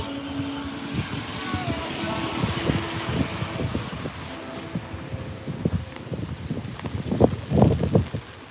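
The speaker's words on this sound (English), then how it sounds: "Getting kind of windy." Gusty typhoon wind in Korea buffets the microphone while walking outdoors, a steady roar that surges louder toward the end, with traffic-like rumble mixed in.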